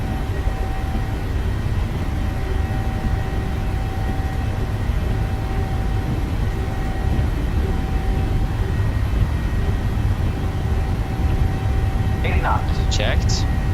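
A steady, loud roar of airliner jet engines at takeoff thrust in Microsoft Flight Simulator 2020 holds constant throughout, with brief faint chirps near the end.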